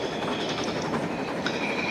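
Coronation Class Duchess of Hamilton steam locomotive pulling away in Train Simulator 2020, a steady rolling rumble with faint rhythmic wheel clatter, continuous and fairly loud, with no talking.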